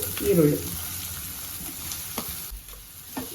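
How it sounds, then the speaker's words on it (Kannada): Finely chopped onions sizzle and crackle in hot oil for a chicken sukha, with a few scraping stirs in the pan; the frying hiss stays steady and close throughout, no talking. "ಈರುಳ್ಳಿ ಸ್ವಲ್ಪ ಕೈ ಆಡಿಸ್ತಾ ಇರೋಣ"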